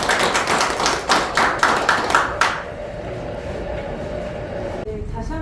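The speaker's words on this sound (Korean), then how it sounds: "박수로 부탁드리겠습니다." An audience at a lecture on small-scale smart farms applauds for about two and a half seconds, a dense patter of clapping that then stops, leaving quiet room hum.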